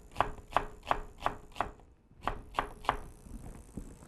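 A knife slicing food on a cutting board, about eight crisp, evenly spaced chops in two runs with a brief pause between, close and clear with no speech.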